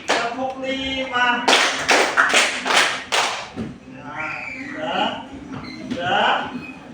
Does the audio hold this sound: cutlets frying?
no